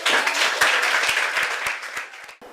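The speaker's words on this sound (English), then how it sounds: "You can clap for yourself." A class of students in The Gambia claps for themselves during a televised school science program, a loud, dense burst of applause with a few sharper claps standing out, tapering off near the end.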